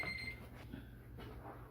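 A phone alarm rings at moderate volume, its electronic tone sounding in short repeated bursts over faint room noise.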